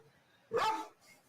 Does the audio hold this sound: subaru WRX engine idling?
no